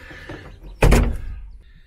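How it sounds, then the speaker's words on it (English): A van's sliding door rolls open in Snowdonia with a loud, rushing clunk in the middle, followed by a fading rumble and quiet outdoor air. "Open the van doors, let you see"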